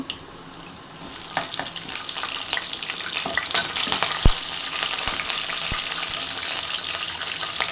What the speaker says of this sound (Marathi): हलकीशी त्याची भाजून घ्यायची लसूण त्याच्यामध्ये त्याचा फ्लेवर उतरला पाहिजे कढीपत्ता टाकून घेते